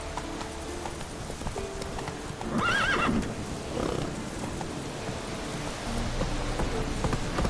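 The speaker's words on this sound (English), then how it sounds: "Whoa there, Roach" Roach, a horse in the video game Witcher 3, gallops with steady clip-clop hoofbeats under rain, and a clear whinnying neigh rises midway through before the hooves continue.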